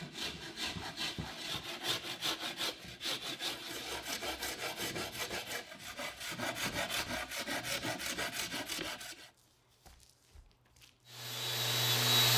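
Steady rhythmic back-and-forth strokes of a coarse saw rasp chamfering a wooden ship's wheel ring, close and loud for about nine seconds, then a pause and a different rushing noise at the end.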